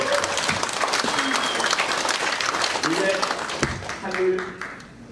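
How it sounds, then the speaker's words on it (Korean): An audience at a Korean patriotic gathering claps together, a steady wash of applause at moderate volume that tapers off near the end, with some talk and voices underneath. "우리 여러분에서 박수 스스로 한번 칩시다"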